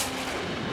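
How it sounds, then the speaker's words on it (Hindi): A single loud, booming gunshot blast in a TV crime drama scene fills the brief moment with no other sound. "ये तो गोली की आवाज है"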